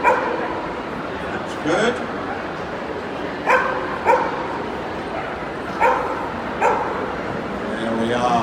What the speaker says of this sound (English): So, hopefully we'll get the dog to bark.